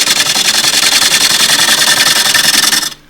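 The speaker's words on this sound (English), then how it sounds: "Take this out with a 1/2 inch spindle gouge." Elm bowl with a split spinning on a wood lathe as a 1/2 inch spindle gouge cuts into it, a loud steady whirring, rubbing hum that stops abruptly near the end.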